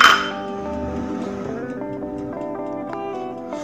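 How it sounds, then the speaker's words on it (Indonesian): Spoon clinking against a glass or metal bowl while milk powder is stirred into pumpkin layer cake batter, a bright ringing strike at the start followed by several lighter taps that fade, close and clear with no talking. "Kemudian kita masukkan susu bubuknya. Kita aduk balik."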